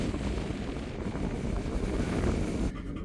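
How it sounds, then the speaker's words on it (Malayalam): Strong desert wind roars beside a long open road, buffeting the microphone with a constant rough rumble that drops away briefly near the end. "ഭയങ്കര കാറ്റാണ്."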